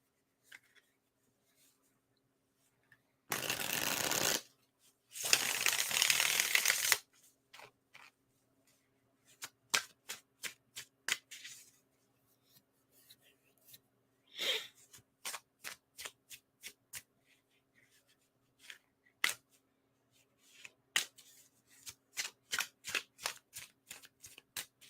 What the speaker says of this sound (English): It's time to sling some cards.